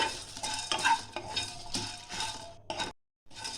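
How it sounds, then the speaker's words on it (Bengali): Dry spices scrape and rattle as they're dry-roasted in a hot pan for Kashmiri chicken kanti, with a steady scratching rhythm and a brief pause before stirring resumes. "মশলাগুলো আমি একটু হালকা ভেজে নিচ্ছি।"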